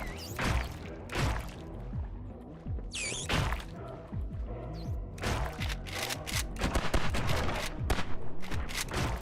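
Rapid gunfire crackles nonstop from shooting enemies in an indie action video game, dense bursts of shots layered with impacts, steady and loud throughout.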